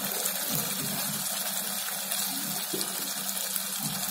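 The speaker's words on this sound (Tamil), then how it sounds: "இப்போ மசாலாக்காக தான் இந்த தண்ணி ஊற்றிருக்கோம், அதுக்கு மேலே தண்ணி ஊற்றாதீங்க." Water pours from a tap into fish curry masala, a continuous close gushing splash that stays steady throughout, with no one talking.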